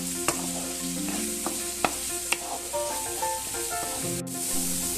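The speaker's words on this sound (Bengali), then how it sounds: "3-4 মিনিট আমি মশলাটা কষিয়ে নিচ্ছি" Masala spice paste for chitol fish curry sizzles and fries in a pan while a spoon stirs it, with steady hissing broken by several sharp scraping clinks, close and with no one speaking.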